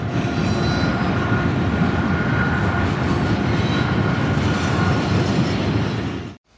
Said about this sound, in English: BNSF running a fleet of westbound trains towards Los